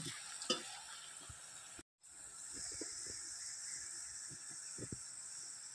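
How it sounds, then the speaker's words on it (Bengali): Raw potato chips fry in hot oil as they are turned and stirred, giving a quiet, steady sizzle with soft scraping and clinking of the utensil. "এবার কিন্তু আমি উল্টে পাল্টে দিয়ে কিন্তু এগুলো ভেজে নেব।"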